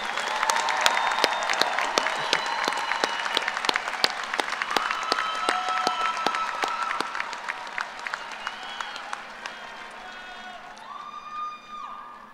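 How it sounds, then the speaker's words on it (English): Sustained applause from a large graduation commencement crowd, dense clapping with scattered cheers, fading toward the end. "Would everyone please join me in giving another round of applause to all of our graduates."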